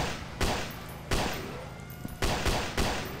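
Pistol fire at zombies in the video game Oncoming Death: four sharp, loud single shots spaced unevenly over a few seconds, each with a short decaying tail, no talk.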